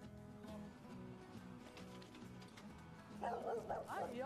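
A Dalmatian barks and yips at a kiln area by a shop in Japan, its calls mixed into a busy, noisy background with a brighter burst of yelping toward the end.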